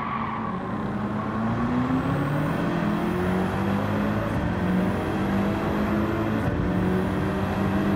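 Racing car in Gran Turismo 7 at the Red Bull Ring, engine note droning continuously and shifting pitch as it brakes late for a corner, loud and steady throughout with no pauses.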